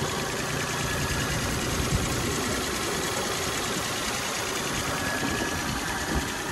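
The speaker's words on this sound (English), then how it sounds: "So here's one of those Suzukis in action. It's actually sitting here running. That little 3-cylinder." A small Suzuki three-cylinder engine with a manual transmission idles steadily nearby, a continuous dense mechanical hum and rattle with no talking over it.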